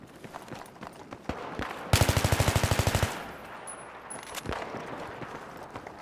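Rapid burst of automatic gunfire in Battlefield 3 on the Operation Firestorm map, about a dozen sharp evenly spaced shots lasting roughly a second, loud and close over a background of distant battle noise and scattered thuds.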